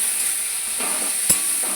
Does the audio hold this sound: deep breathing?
no